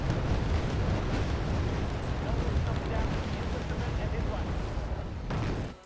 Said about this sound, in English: Anti-tank weapons are flying everywhere.